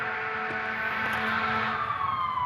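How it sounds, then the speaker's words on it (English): A siren wails in the background, probably from an emergency vehicle on a nearby road, steady and moderately loud with a slowly sliding tone across the short stretch. "sorry, sirens"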